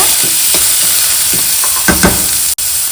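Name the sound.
chopped onion sautéing in a pan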